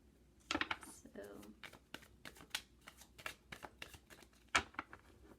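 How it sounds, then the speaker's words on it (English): Quick papery riffles and soft slaps of a tarot deck being shuffled, in short bursts at close range, with faint talking mixed in. "and I'll shuffle the deck"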